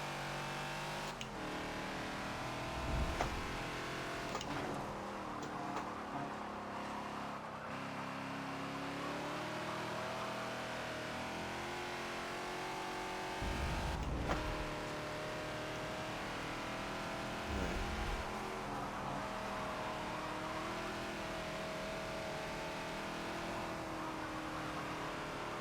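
Ford Falcon XB race car at Maple Valley in Forza, its engine droning steadily and loudly throughout with rising and falling revs and a few brief bumps or thumps.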